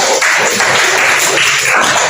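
A classroom of students applauds a pair who have just presented, a loud, dense wash of clapping that holds steady throughout.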